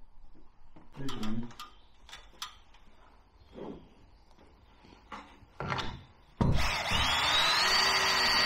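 A power drill drives a screw into a wooden batten inside a camping truck, starting near the end with a loud, sustained whir after several scattered knocks and handling clatters; a voice speaks briefly earlier.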